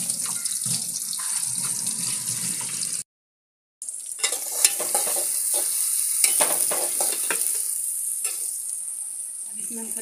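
Cumin seeds sizzle in hot oil in a pan as spices are added and stirred, with a steady frying hiss, scraping stir strokes and a brief silent gap partway through.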